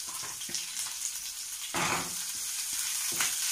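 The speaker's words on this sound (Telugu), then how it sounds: "కట్ చేసి ఉంచుకున్న ఆనియన్ పీసెస్ వేస్తున్నాను కరివేపాకు" Onion pieces and curry leaves frying in hot oil in a pan, a close, steady crackling sizzle that swells in bursts as they hit the oil and are moved around.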